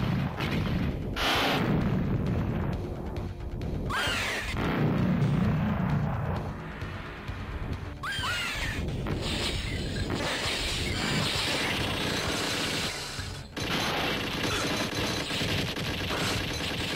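Continuous gunfire in the light gun video game Alien 3: dense, rapid shots and booming blasts run without pause for the whole stretch, loud and close with a rumbling low end.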